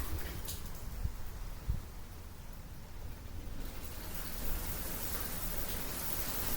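Rain falls steadily outdoors as a soft, even hiss with a few faint taps, quiet and continuous with no talk.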